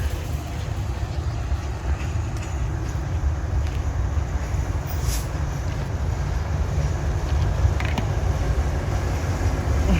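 Freight train 722 hauled by a Hitachi locomotive, a steady loud rumble with creaking and clanking of rail wagons rolling past continuously without pause.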